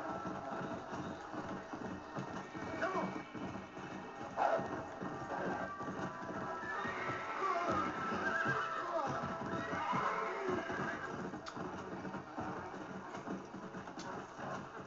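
A horse in the Red Dead Redemption: Undead Nightmare video game whinnies loudly over steady clip-clopping hooves and a soft ambient game background, with the neigh swelling and falling through the middle.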